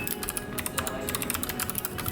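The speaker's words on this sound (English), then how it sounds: "Oh, so that's like the keyboard." Typing on a GK61 custom mechanical keyboard: a dense, continuous run of close, crisp keystroke clicks with no talking.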